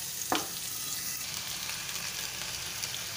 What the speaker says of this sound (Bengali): আর এইদিকে ভাজা হচ্ছে, অল্প যে একটু মাছের ডিম ছিল সেটা ভাজা হচ্ছে।